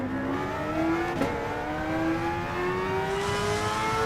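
A car engine accelerates in the Gran Turismo Sport racing game, its steady rising whine climbing smoothly in pitch through one gear with a brief blip partway, loud and alone.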